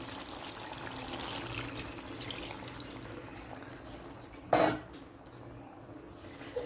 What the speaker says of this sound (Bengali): এবার এর মধ্যে আমি সামান্য একটু জল দেব